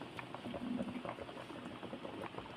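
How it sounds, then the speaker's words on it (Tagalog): Salmon sinigang soup bubbling in a pot at a steady simmer, with soft continuous popping and gurgling heard close and fairly quiet, with no other sounds. "Kumukulo na, malapit na maluto"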